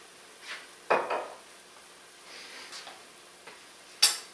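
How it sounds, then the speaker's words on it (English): Mushrooms with soy sauce are stirred in a pan: a few soft scrapes and sharp utensil clinks, spaced out over quiet sizzling, close and fairly faint. "Let's get that all stirred around."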